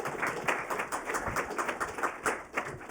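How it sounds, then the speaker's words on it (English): A conference audience at a legal symposium on artificial intelligence regulation gives a round of applause after a fireside chat, moderately loud, even clapping from many hands across a room. "Can we get one more round of applause for our great fireside chat?"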